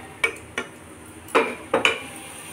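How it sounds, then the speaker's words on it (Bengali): A spoon stirs oats that were poured into boiling water in a pot, several distinct clinks and scrapes against the pot spread across a couple of seconds over a quiet simmer. "জল ফুটে ওটসটা ঢেলে দিলাম, দিয়ে একটু নাড়িয়ে নেব।"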